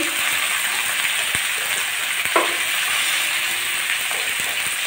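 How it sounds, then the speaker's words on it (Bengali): Vegetable stems frying in a pan hiss in a dense, steady bright sizzle like rain, with occasional faint ticks and a soft stir or tap, close and continuous. "ডাঁটাটা আমি নেড়ে চেড়ে ভালো করে একটু ভেজে নেব"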